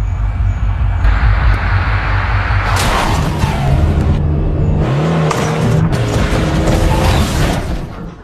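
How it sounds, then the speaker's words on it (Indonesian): Car speeding and crashing into another car in a film scene, loud engine roar and revving with heavy booming impacts and screeching, dense and continuous. "Hector 3 memasang sabuk pengaman dan melaju kencang menabrak mobil Hector 2."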